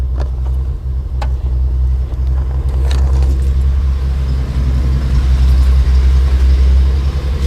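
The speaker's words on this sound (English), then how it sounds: "Listen to the engine on this thing. No bomb noise. Nice and quiet." A 1939 Plymouth sedan engine idles steadily with a deep, even low rumble, close and loud, with a few faint clicks and jingles on top.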